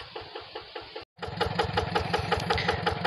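A Yanmar tractor engine on a rice field dike runs with a rapid, rhythmic knocking chug. It cuts out for a moment, then returns louder and steadier, close by.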